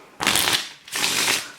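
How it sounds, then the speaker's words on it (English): Two quick riffle shuffles of thin, loose-stock playing cards (David Blaine Gator Backs Green Edition), each a close, crisp flutter lasting under half a second. "One riffle shuffle."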